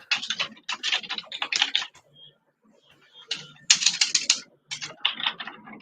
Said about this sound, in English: I love the sound of your typing.